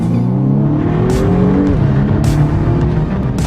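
A powerful car, able to reach 100 km/h in under five seconds with launch control, accelerates hard; a loud, close engine note climbs steadily in pitch through rising gears, continuous with no talking.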